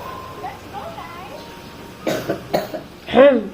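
A couple of sharp coughs follow faint background chatter, ending in a louder, rougher cough close by.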